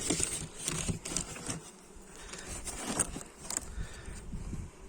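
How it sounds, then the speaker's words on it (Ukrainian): A dense, buzzing swarm of bees humming continuously close by at a hive, with soft patter and rustling mixed in. "Бджоли в праці."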